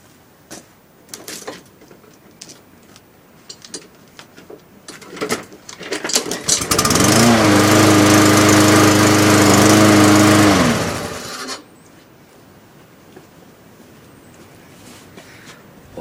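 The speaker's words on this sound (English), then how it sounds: "we're gonna cold start the Craftsman" A Craftsman lawn mower engine cold starts on a single pull and runs with a steady loud drone for about four seconds before cutting off, preceded and followed by clicks and handling noises close by.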